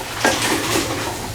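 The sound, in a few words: stirring turmeric, coriander and salt in a pan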